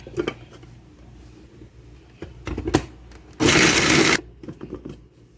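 An electric chopper whirs through onions and green chillies for chapli kabab, a few short stuttering pulses and then one loud sustained buzz of under a second, with clatter around it.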